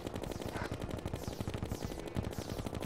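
A rapid-fire gun in Terraria shoots chlorophyte bullets in a dense, continuous burst of crackling shots that runs the whole time, loud and close, with no talking.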